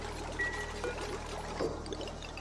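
Desalinator producing water in the Oxygen Not Included video game, a soft steady pouring trickle with faint drips, quiet and continuous throughout.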